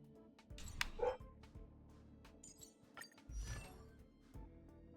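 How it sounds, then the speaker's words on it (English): Dogs barking and yipping inside a house, a few muffled barks and whimpers at moderate distance over a steady low background hum. "I'm pretty sure you can hear all that barking."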